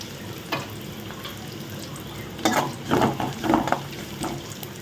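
Onions fry with a steady sizzle in hot oil, with occasional stirring scrapes and clatters rising over it, close by, no voices.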